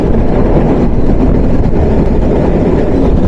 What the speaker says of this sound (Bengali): আন্তনগর নীলসাগর এক্সপ্রেস থ্রুপাস করে যাচ্ছে আব্দুলপুর রেলওয়ে জাংশন